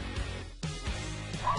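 A dog gives a few soft barks and whimpering yips at close range, fairly quiet against a muffled indoor background, with some faint voices nearby.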